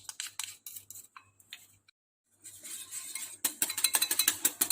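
A utensil clinks and scrapes in a bowl while martabak batter with salt and vanilla is stirred, in quick irregular taps with a brief pause in the middle and a busier run of clatter at the end.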